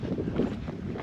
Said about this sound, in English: It's a little bit windy here at the Gap, which is to be expected.